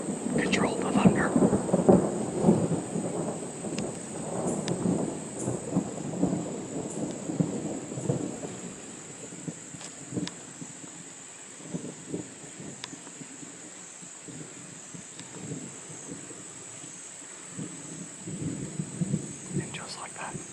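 Thunder rumbles loudly and deeply through a storm in the woods, rolling on for several seconds before fading into softer, lingering grumbles, with rain and a steady insect-like hiss behind it.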